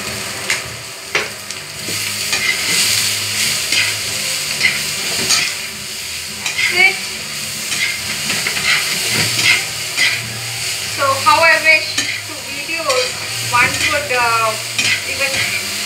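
Seasoned food stirs and sizzles in a pan over a low flame with salt and fresh pepper, giving a steady, close frying hiss with scraping stir sounds throughout and a voice speaking briefly near the end.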